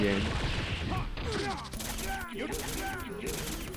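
War Machine fires his proton cannon in Kang of Fighters Mugen, a rapid barrage of gunfire-like blasts that carries on steadily over the fighting game's music and effects.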